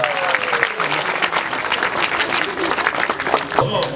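An audience at an open karate championship in Kumai bursts into dense, sustained applause, many hands clapping together with a voice speaking faintly over the crowd.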